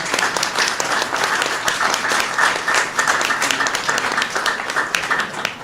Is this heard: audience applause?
yes